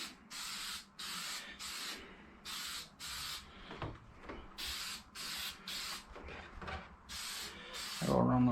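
Short bursts of an aerosol spray can painting a plastic RC car body, about a dozen evenly spaced hissing puffs close by with brief pauses between, then a soft knock at the end.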